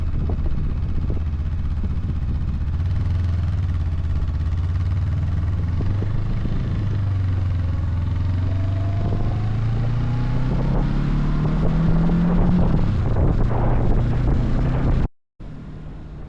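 Honda SCL500 motorcycle on a ride toward Vermontville, Michigan, its engine droning steadily with a rising and falling pitch as it accelerates and shifts, loud and close throughout with wind rush, cutting out briefly near the end.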